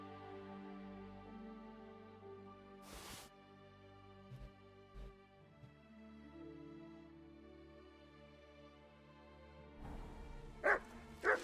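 Mutt, the player's dog in the game Kingdom Come: Deliverance II, gives a few short barks and yips late on, loud and close over a steady low ambient game background with occasional soft thuds earlier.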